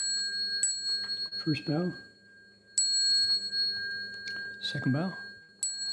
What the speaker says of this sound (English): let's ring the bell 3 times